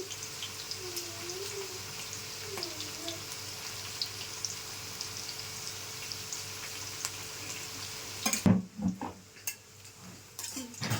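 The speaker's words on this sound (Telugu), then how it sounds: "ఉల్లిపాయలు ఇలా వేగుతూ ఉంటాయి." Onions frying in a pan for green chicken pulao, a soft steady sizzle under a faint background hum, then sharp clattering utensil knocks near the end.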